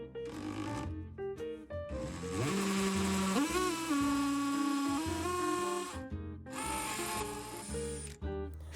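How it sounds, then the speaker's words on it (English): A power drill with a 3/16 bit pre-drills holes for building a raised garden bed. Its motor whines in loud bursts, the pitch rising and settling as it bites and spins down, with brief pauses between. "So I'm going to pre-drill each of these. I'm using a 3/16 bit."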